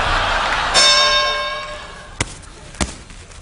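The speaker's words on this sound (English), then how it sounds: "When the bell rings" A boxing-style fight bell rings once with a bright ringing tone that fades slowly, followed by two sharp thuds.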